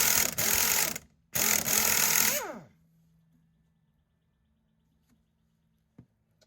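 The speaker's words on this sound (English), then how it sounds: "I got the impact and the air hose out here" Air impact wrench on a nut, two loud close bursts of rapid hammering, the second ending as the motor winds down, followed by near quiet with a faint hum and a small click.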